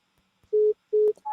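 A telephone line on a call-in radio programme sounds repeated steady electronic tones, three short beeps at regular intervals, clear and close against near silence, with no voices.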